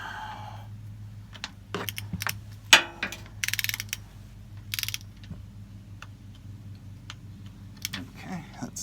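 A torque wrench tightens a fastener to 10 foot-pounds on a 2016 Toyota 4Runner during an oil change. It gives a few sharp clicks and ratcheting ticks over a low background hum.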